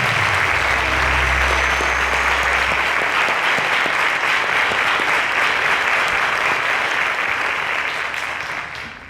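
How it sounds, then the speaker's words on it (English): Studio audience applause on a televised quiz show, a loud sustained burst of many hands clapping that holds steady for several seconds, then begins to taper near the end. "A round of applause, ladies and gentlemen."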